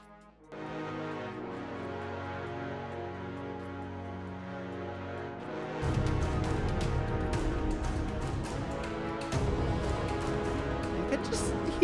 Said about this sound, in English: let's just play the whole brass section